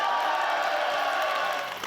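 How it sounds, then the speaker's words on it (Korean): A crowd at a political rally cheers and whoops, a sustained roar of voices that fades slightly at the end. "박수!"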